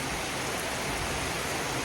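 Sudden heavy rain pours down over a house construction site, a dense, loud, unbroken roar of water that holds steady throughout.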